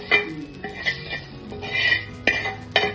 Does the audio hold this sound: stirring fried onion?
yes